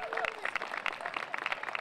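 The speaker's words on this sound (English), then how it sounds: "Give them a round of applause." An outdoor audience at a fire station groundbreaking press conference gives a short burst of scattered, fairly distant clapping, with voices mixed in beneath.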